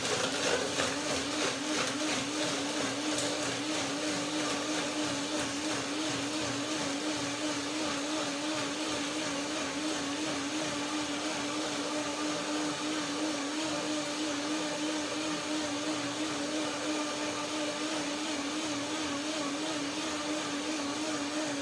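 A blender whirs continuously at high speed blending cashew cream with water, a steady motor whine that holds without pause for the whole stretch.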